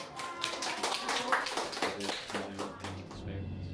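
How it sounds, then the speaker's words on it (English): A small group claps at the end of a class, scattered uneven hand claps that thin out after a couple of seconds, with a voice briefly speaking near the end. "Rounds of applause for you guys."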